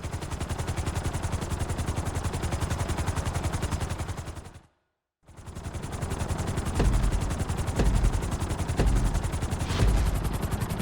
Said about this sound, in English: we're gonna put you in a helicopter for this lesson